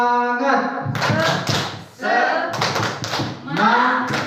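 A group of school staff at a seminar performs a rhythmic spirit-clapping routine, bursts of unison claps and taps in patterned sequences, mixed with voices chanting along between the clapping phrases.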